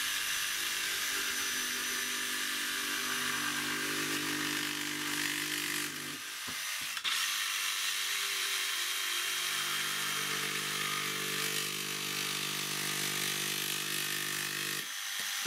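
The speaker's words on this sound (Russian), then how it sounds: "только будем пилить его вот этим лобзиком" An electric jigsaw whines steadily as it cuts through a wooden board, with a brief pause midway before the motor picks up and keeps sawing, loud and close.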